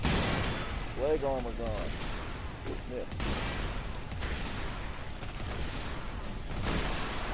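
Shotgun blasts from a Ranger's high-level weapon in Earth Defense Force 5, sharp bursts standing out in dense, constant battle noise while someone talks over the action.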